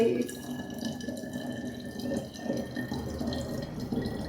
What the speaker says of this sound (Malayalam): ഈ വെള്ളം ഒഴിക്കാൻ പോവാണ് ഗൈസ്